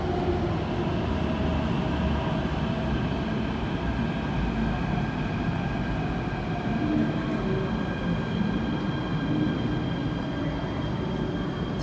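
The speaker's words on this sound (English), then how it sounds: "It's the first K train of the whole fleet" An MTR K-train arrives at underground Yau Tong Station in Hong Kong, a loud continuous rumble and roar of wheels and motors in the tunnel with faint squeals, lasting the whole time with no talk.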